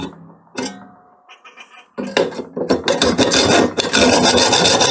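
A hacksaw cuts a workpiece to length on a table padded with a piece of wood, beside a mini lathe. A few hesitant scrapes give way to fast, rhythmic rasping strokes that grow louder and denser, close up.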